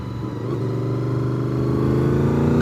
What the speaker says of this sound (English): Somebody's Miata's not running right.